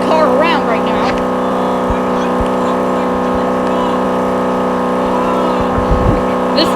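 A race car on a Daytona beach track turning around, its engine holding a loud, steady droning hum with brief shifts in pitch, near and continuous, while a voice speaks faintly underneath.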